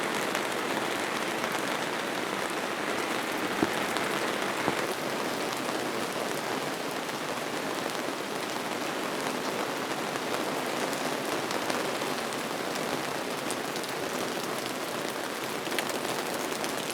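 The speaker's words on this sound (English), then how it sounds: "Heavy rain is still going, hasn't stopped all day." Heavy rain pours steadily throughout, a dense, constant hiss of drops hitting surfaces, close and loud with no break.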